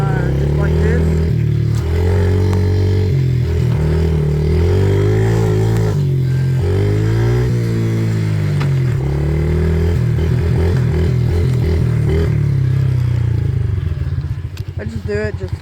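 A Yamaha dirt bike climbs a small hill in first gear, its engine loud and close with steady chugging and shifting revs throughout, easing off at the end.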